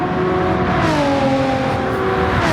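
Racing cars in a Gran Turismo 7 multi-class race, a green and black McLaren among them, roar steadily with rising and falling engine tones as several pass close by, loud and continuous throughout.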